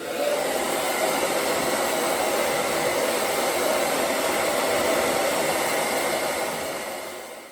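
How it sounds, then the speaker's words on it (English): A hair dryer set to high heat blows steadily while a mustache is styled, a loud, constant whooshing roar that tapers off at the very end. "I just grab my hair dryer, put it on high heat, and then work it into the direction that I want to go."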